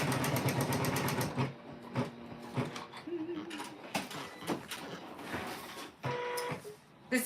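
A Janome M17 embroidery machine stitches an in-the-hoop quilt block, giving a rapid mechanical chatter that starts and stops in short bursts, with brief pauses and faint talk between runs.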